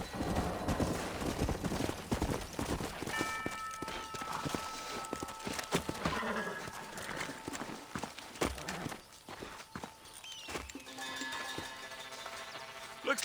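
Horse hooves clip-clop in Red Dead Redemption, the first game, steady footfalls mixed under a busy layer of game music and effects, with speech-like sounds in the background.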